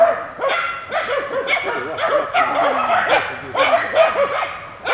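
West Siberian laikas, two five-month-old pups and a yearling, bark repeatedly at a bear, with loud, close, rapid barks and yips overlapping in an excited, continuous volley.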